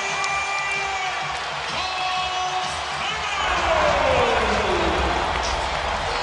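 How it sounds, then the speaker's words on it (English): Basketball arena crowd at the Amway Center roaring and cheering during a Magic–Knicks NBA game, a sustained loud wash of voices that swells in the second half, with whoops and a commentator's voice over it. "The Amway Center crowd is on its feet."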